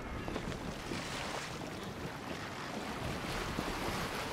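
A felucca sailing boat moves across the water in the video game Assassin's Creed Origins, with steady wash of water and wind noise rolling continuously, with no talking.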